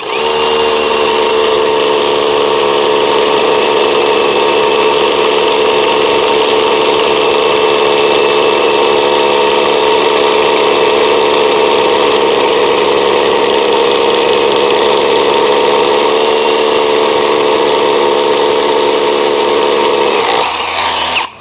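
A cordless drill fitted with a size 14 bit runs loudly and steadily up close for about twenty seconds, giving a continuous whining motor drone before cutting off abruptly at the end, with no talk.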